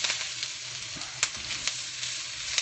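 Chopped onions and garlic sizzle in a hot pan, a steady crackling fry with occasional sharper pops and stirring clicks, close and fairly quiet with no talking.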